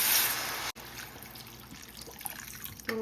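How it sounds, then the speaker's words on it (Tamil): Water pours steadily into a pot of vada curry, a continuous liquid splashing and trickling sound, fairly quiet and close, with a brief break partway through. "கொஞ்சம் அது வேகிறதுக்கு தண்ணி 1 கப் ஊற்றிக்கோங்க"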